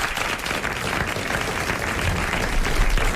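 Studio audience applause on a French radio quiz show from 1980, a steady, dense burst of clapping that holds at full level for about three seconds with no talk over it.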